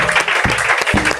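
A church congregation breaks into applause, a steady loud clatter of many clapping hands with a few sharper bursts, filling the room without pause.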